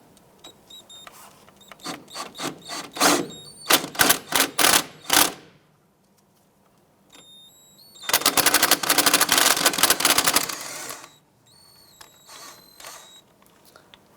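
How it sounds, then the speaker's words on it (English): A socket wrench fitted with a 16mm socket spins out the lower ball joint pinch bolt on a 2001–2007 Ford Escape front suspension. Quick bursts of sharp ratchet clicks come in clusters, then one long rapid run, close and clear. "Let's go ahead and remove our lower pinch bolt ball joint unit here using a 16mm socket."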